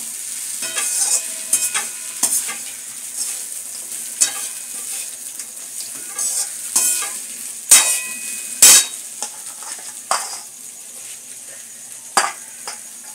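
Flattened rice pulao with egg is stirred in a pan over a soft sizzle, with irregular scraping and clattering strokes of the spatula standing out loudly against the low frying hiss.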